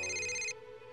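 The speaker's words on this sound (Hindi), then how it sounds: "ये किसका फोन है?" A phone ringtone plays loudly in a library for about half a second, a bright repeating electronic tone that cuts off abruptly and leaves a quieter background.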